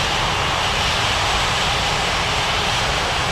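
An Iberia airliner taxiing at an airport in an air traffic control game, its jet engines giving off a steady, loud, unbroken roar with no other sounds over it.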